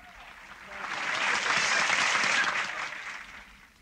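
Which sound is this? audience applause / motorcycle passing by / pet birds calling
audience applause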